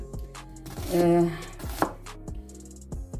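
A knife chops food on a board in a few close, distinct strikes, with a brief louder stretch in the middle, over quiet kitchen background.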